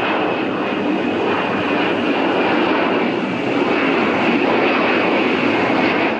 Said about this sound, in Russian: Разведгруппа 108-го десантно-штурмового полка высаживается с борта самолета Ил-76 на высоте 800 метров.